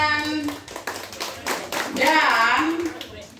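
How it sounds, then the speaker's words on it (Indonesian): An audience at a church community contest prize announcement claps for a winner in scattered individual claps, then louder cheering voices rise over the clapping toward the end. "tepuk tangan"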